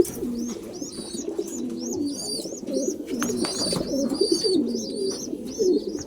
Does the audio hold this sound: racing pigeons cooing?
yes